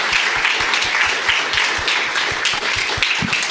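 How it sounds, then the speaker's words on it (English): An audience at a conference on rule of law, human rights and peace gives a round of applause, sustained dense clapping with a faint low rhythmic thud underneath. "I'd really like to give a round of applause to the translators"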